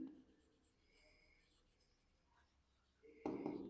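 A pen writes out accounting journal entries during a Class 11 accounts lesson, giving faint, close scratchy strokes under quiet room hiss before a brief louder thump at the end.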